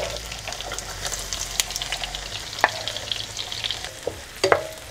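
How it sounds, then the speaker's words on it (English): Celery and a medium chopped onion sauté in butter, giving a soft steady sizzle with scattered utensil scrapes and taps as the pan is stirred, moderately close, with no talking. "So let's saute that up right here in our butter."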